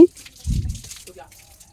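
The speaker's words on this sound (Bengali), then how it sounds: "দাঁত মাজা হয়ে গেছে মুখটা ধুয়ে নিচ্ছি" Water splashes at a sink as a face is rinsed in the morning with Clean & Clear face wash: one short, close burst of splashing, then quiet dripping.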